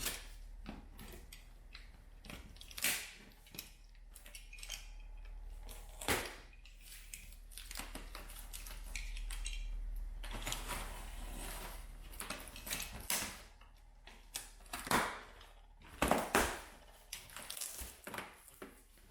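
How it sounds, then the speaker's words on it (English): Loose parts rattle and clatter inside a package for a Lifan 125 semi-automatic, irregular clicks and knocks over a low rumble, fairly faint with sharper bursts toward the end. "the package seems to have a lot of rattling around"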